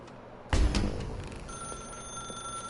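A telephone rings in the video game The Stanley Parable. A loud burst begins it, and then a steady electronic ringing tone holds over a hollow room background, with no voices.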